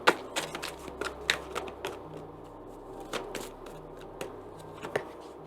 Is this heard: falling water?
no